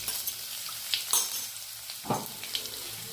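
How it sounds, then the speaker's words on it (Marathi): Raw peanuts and green chilies fry in hot oil with cumin for sabudana khichdi, giving a steady close sizzle broken by a few sharp stirring scrapes, with no voices. "शेंगदाणे कच्चे घेतले होते म्हणून त्याचे चांगले फ्राय करून घेऊया"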